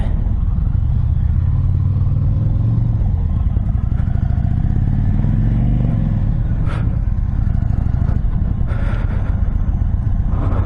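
A 2022 Indian Chief motorcycle rumbles steadily and loudly while being ridden, a deep continuous engine drone with faint clatter and no talking.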